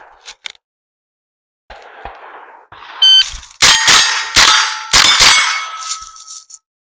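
Rimfire rifle shots ringing off steel plates in a fast string, several sharp cracks each followed by a bright metallic clang, loud and close.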